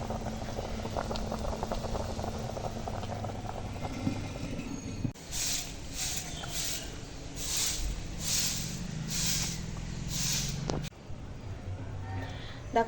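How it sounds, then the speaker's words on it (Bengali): Sole fish curry simmers in a clay pot over a stove, giving a soft, steady bubbling that swells into rhythmic bursts of boiling over several seconds before settling back. "যে ফুটছে ওই ভাপটা উঠছে দেখো"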